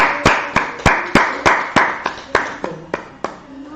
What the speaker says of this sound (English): just clap it up real quick.